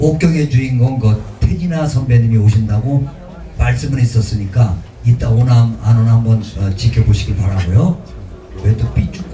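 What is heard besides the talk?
No distinct noise like a dog, phone or traffic.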